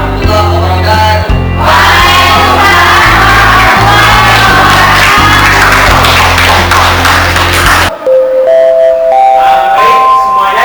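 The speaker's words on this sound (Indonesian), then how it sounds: "karena bel pergantian pelajaran sudah berbunyi" A school bell marking the change of lessons rings in a loud, rhythmic electric pattern over a noisy crowd of students for about eight seconds, then cuts off into a brief melodic chime.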